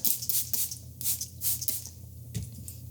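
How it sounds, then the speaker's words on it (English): Repeated short hissing bursts of water sprayed onto the top of bread dough, about five or six in quick succession, close by with quiet pauses between. "spray the top with water."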